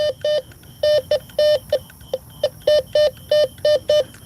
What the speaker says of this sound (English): let me see what my 10 karat gold wedding band sounds like